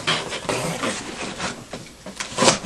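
Cardboard box holding an M91 Mosin Nagant rifle being opened, with close, continuous rustling, rubbing and scraping of cardboard and a louder tearing scrape near the end.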